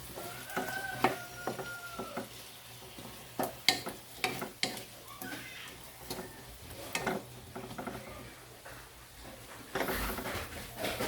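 Squid and vegetables with a little ketchup are stirred and sautéed in a pan. A steady sizzle sits under irregular scraping and clinking strokes of the spatula, close up.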